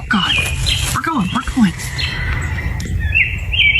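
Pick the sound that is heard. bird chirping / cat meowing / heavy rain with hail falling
bird chirping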